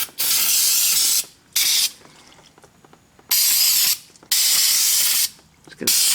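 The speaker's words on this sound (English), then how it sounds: "I'm actually going to spray this whole section down with brake clean" Several loud bursts of brake cleaner aerosol spray hissing close up onto a 1997 GMC Sonoma's power steering area, each lasting about a second with short pauses between, plus faint clicks and rattles in the gaps.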